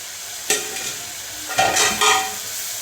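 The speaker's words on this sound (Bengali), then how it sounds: "চিংড়ি মাছটা ভালো করে কষিয়ে নিব" Prawns stir-fried in a pan, heard as short sizzling bursts as the food is moved and turned, with quieter frying between the stirs, close and fairly loud.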